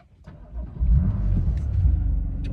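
A BMW M2 Competition with a 411 hp engine is started and settles into a deep, loud rumbling idle that swells after the first second and holds steady, with no talk over it.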